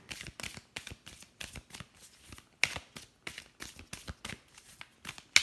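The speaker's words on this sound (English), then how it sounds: "Cards are falling out." A deck of tarot cards is handled and shuffled at close range. Quick, rhythmic riffles and slaps repeat steadily throughout.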